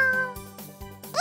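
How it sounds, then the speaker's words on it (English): A cat meows clearly a few times in a short, close cartoon-style sound effect within a children's English storybook reading. "This is my cat."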